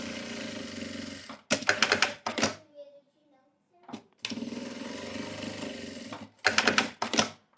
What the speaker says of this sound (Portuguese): Vou costurar de um lado e do outro eu já preparei aqui.